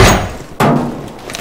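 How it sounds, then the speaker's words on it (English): A grenade thrown in the Counter-Strike video game lands with one sharp, loud thud partway through, then fades into a low lingering rumble with faint game noise around it. "Grenade out!"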